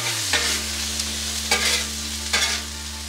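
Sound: onions caramelizing on a Blackstone griddle

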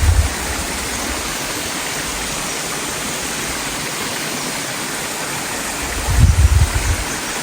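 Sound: waterfall with clear mountain stream

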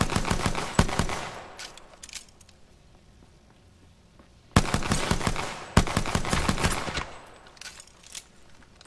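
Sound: gunfire in Apex Legends video game

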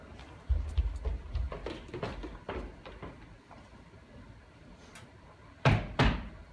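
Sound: door opened for an arriving guest in a school play

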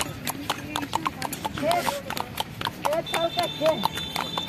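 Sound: horse hooves clip-clopping during a ride in Gulmarg

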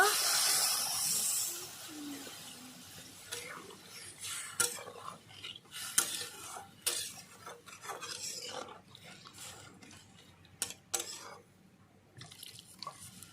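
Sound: stirring raw mango chutney in a pan

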